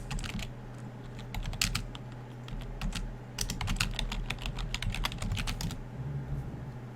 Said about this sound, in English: I can almost hear typing.